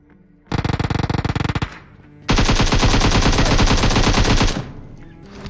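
An M4 rifle fires in a battle royale video game, one rapid burst of full-auto shots, a short pause, then a longer sustained burst, loud and close.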